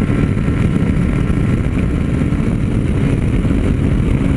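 A Honda Sahara 300 motorcycle engine roars loud and close as it accelerates hard toward top speed, a dense, sustained rumble with wind noise throughout.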